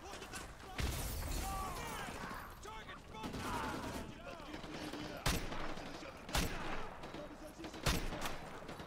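Gunfire from the video game Call of Duty MW2 rattles in repeated bursts with several sharp, loud single shots standing out, mixed with game effects and dense background noise.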